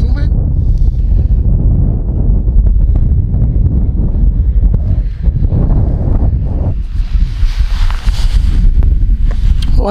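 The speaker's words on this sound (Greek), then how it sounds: "Ο αέρας δυναμώνει, δυστυχώς." Strong, strengthening wind buffets the microphone outdoors during a drone flight with a constant low roar, and a voice speaks faintly underneath it.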